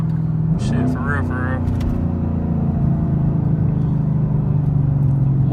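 Chevrolet Camaro SS V8 engine cruising steadily on city streets at a calm pace, a low continuous rumble from inside the cabin with someone talking over it.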